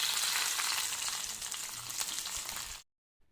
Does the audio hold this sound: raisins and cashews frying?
yes